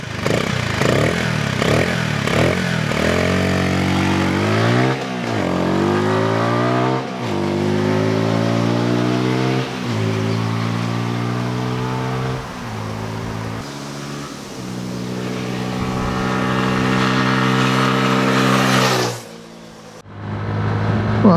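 A 2022 MASH X-ride 125 motorcycle accelerates hard through several closely spaced gears while being ridden, its engine note climbing in repeated rising sweeps with brief dips at each shift, loud and close with wind noise and no talk.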